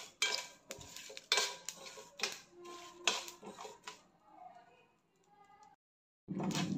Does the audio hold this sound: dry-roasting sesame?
yes